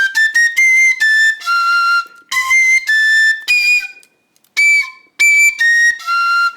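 A cheap piccolo plays a quick phrase of shrill, high, whistle-like notes, some short and some held, with brief gaps between phrases, close and loud.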